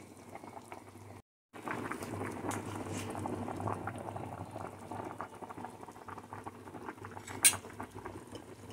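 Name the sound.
zucchini soup with beef and siling labuyo chili boiling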